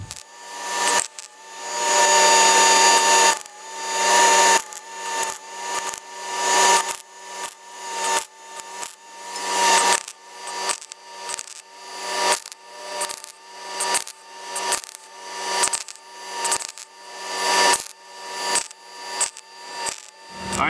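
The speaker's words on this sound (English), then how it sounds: "just hit up a couple welds in there, and then we'll start slowly popping tacks along the whole entire side" Tack welding a patch panel into the B-post area of a Ford Model A: a series of short, loud crackling welding bursts separated by brief pauses, with one longer sustained burst near the start.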